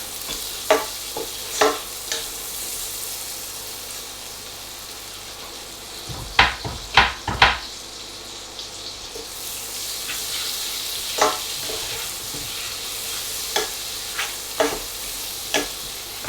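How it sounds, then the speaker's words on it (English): A tablespoon of butter melts with another fat in a pan, giving a steady soft sizzle across the whole stretch, broken by scattered clicks and a brief cluster of scraping taps from stirring. "a tablespoon of butter, melt those two together"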